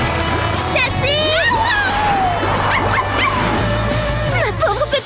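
A small cartoon dog whimpers, yips and barks in rapid rising and falling cries over a busy bed of music and effects, with voices chattering alongside.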